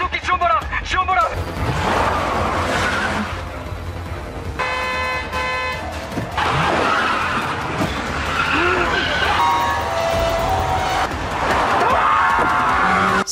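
Car tires skid and screech loudly during a film car chase, in repeated long squeals mixed with short car horn toots, with voices heard briefly.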